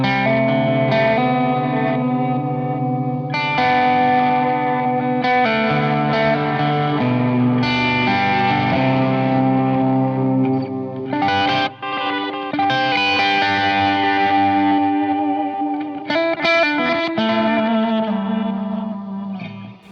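An electric guitar played through a pedalboard effect that blends two modes into a clashing, wobbling distorted tone, with sustained chords and melodic notes shimmering with chorus and echo for about twenty seconds.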